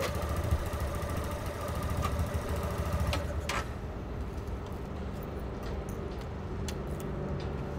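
Motorcycle engine running steadily in a Medellín street setting, a continuous mid-level drone with faint clicks as the bike pulls away and returns.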